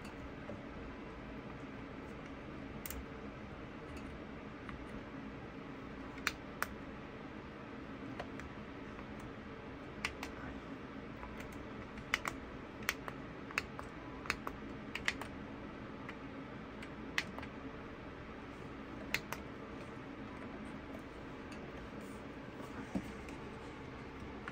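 Buttons and knobs clicked on a Winwing A320 FCU flight-simulator panel, with scattered sharp plastic clicks and quick detent ticks over a steady low hum of room noise.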